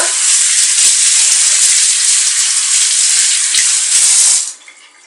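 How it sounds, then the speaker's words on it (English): Cold tap water runs steadily and loudly while kefir grains are rinsed under it, a dense continuous splashing rush that stops abruptly near the end. "I'm going to wash them and get rid of the excess milk with cold water."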